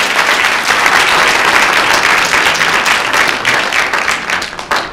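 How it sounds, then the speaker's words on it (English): A big round of applause for two students at a city council meeting, loud, dense clapping from the gathered crowd that carries on steadily before tapering slightly at the close. "How about a big round of applause once again for Brad and Haley?"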